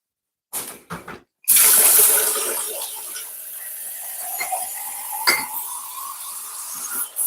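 A kitchen tap is turned on after a few soft clicks and handling sounds, then water gushes loudly and keeps running as a close, steady stream, with faint clinks near the end.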